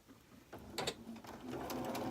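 A quilting sewing machine runs in a short burst of quick mechanical clatter, faint and close, with a few sharper clicks early on and a steadier whirr at the end.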